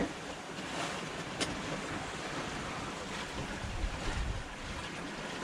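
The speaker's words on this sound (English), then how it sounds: "The waves are quite big." Ocean waves and strong wind surround a small sailboat on an offshore passage from Tenerife to Cape Verde, with a constant broadband rush of wind buffeting the microphone, swells washing along the hull and a few louder surges.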